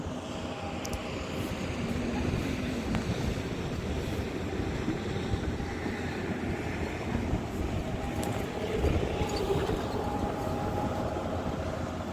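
Strong wind blowing beside a river on a cool late afternoon: a constant, loud, low rumbling roar of buffeting air that stays steady throughout, with no voices.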